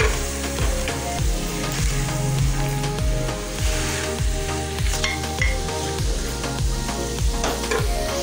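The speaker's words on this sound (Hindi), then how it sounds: "One and half cup brown प्याज है, इसको मैंने इसमें शामिल किया है और अब मैं इसकी भुनाई करूंगी।" Mutton karahi fries with one and a half cups of brown onions, a loud, steady close sizzle with regular scraping stir strokes through the pan, no talking.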